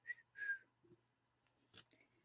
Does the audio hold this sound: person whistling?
yes